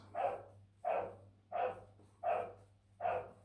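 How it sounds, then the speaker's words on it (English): A dog barks five times at a steady, even pace, each bark medium-loud and slightly distant, with a low steady hum underneath. "There's my friends next door, barking away."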